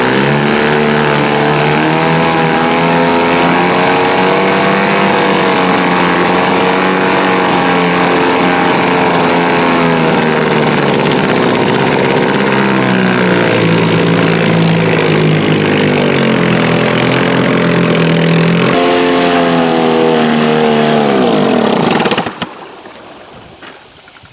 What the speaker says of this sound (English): not bad for a 75-year-old engine